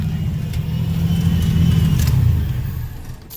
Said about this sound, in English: But she idles a little high.